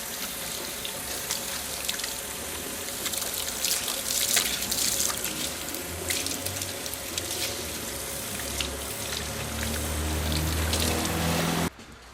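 Tap water runs steadily at a salon sink while hair is rinsed, a continuous close splashing and hiss with small irregular drips, cutting off abruptly near the end.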